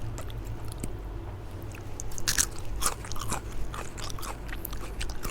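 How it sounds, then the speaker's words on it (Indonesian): Someone bites into crisp, fresh lettuce, giving a few loud crunchy snaps followed by quieter chewing, close up against faint background hum. "Seladanya renyah ya"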